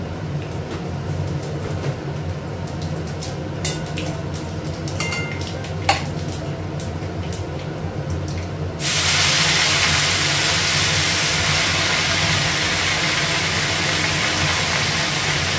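Whole dried red chillies hit hot oil in a home kitchen in Bengal, and after a stretch of faint clinks and taps a sudden, loud, steady sizzle bursts in and carries on to the end.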